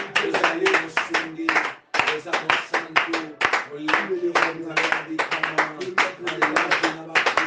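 A congregation at a Christian worship service claps in praise, a dense run of sharp hand claps that goes on steadily with only brief breaks, with voices mixed in among the clapping.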